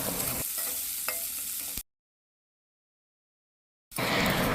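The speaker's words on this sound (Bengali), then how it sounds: "আর পেঁয়াজ কুচিটাও কিন্তু আমি লাল লাল করে ভেজে নেব।" Chopped onion frying in oil in a pan, a dense close sizzle with a couple of utensil taps, interrupted by a two-second dead silence before the frying returns.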